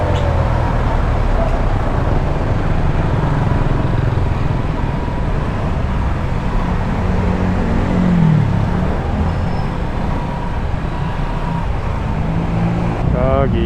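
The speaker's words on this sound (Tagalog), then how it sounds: "Sobrang traffic, awit." Dense, steady road traffic rumble heard from a Rouser NS125Fi motorcycle in heavy congestion, loud and continuous with wind buffeting on the microphone and a faint passing engine tone.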